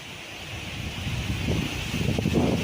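Steady outdoor wind blowing across the microphone on a farm, with broadband rumble and gusty buffeting that grows stronger toward the end.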